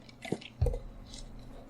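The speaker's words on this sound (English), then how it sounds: "And now she's chewing on a Pop-Tart wrapper" A cat chews on a crinkly Pop-Tart wrapper near a warm computer, giving faint, close, irregular soft crunching and squishing bites with quiet rustle between them.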